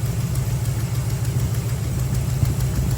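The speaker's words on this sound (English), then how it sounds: "Did you hear the engine dip?" A 1973 Dodge Challenger big block V8 idles close by in a steady low rumble, its rhythm faltering slightly as the engine dips with a cylinder's spark interrupted.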